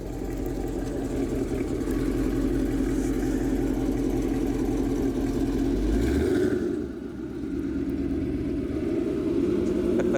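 A Dodge Charger Scat Pack 392 with a Corsa full exhaust system rumbles by in a deep, steady, loud drone that swells and then drops away.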